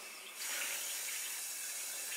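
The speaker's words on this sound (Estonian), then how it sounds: "Lülitame rahulikult vee sisse, ühendame kaitsevahendi järgi ja hakkamegi täitma." Tap water turned on to fill a container, a steady hissing stream that starts abruptly after a brief quiet moment and then runs evenly at moderate level, alone without talk.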